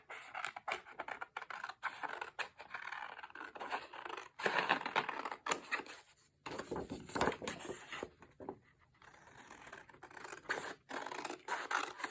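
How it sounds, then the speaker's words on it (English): Scissors cut around a printed photo for a junk journal page in steady scratchy snips and slides, close up and continuous with a few short pauses, no talking. "I'm going to go ahead and cut this out first"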